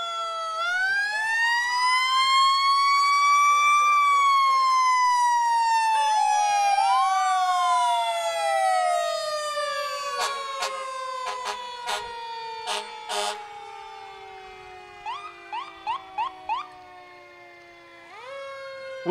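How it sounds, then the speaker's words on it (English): Fire truck sirens wail loudly nearby during a Christmas parade in Destin, rising and falling, joined by sharp blasts of an air horn and short whooping bursts. "the fire trucks coming through. Always blasting their sirens."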